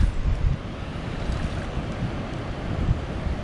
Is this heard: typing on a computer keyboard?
no